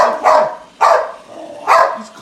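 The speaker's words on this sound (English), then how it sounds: "What's with the barkings?" Three loud, close barks from a boxer dog come at uneven intervals, each a full-throated burst that trails off before the next, with no talking.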